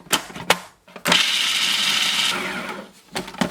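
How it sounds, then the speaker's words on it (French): A food processor grinds roasted peanuts in one loud, steady burst of about a second and a half, with a few clatters and knocks before and after as the lid is fitted and the bowl is handled. "Je mets le couvercle et je vais mixer pendant quelques secondes."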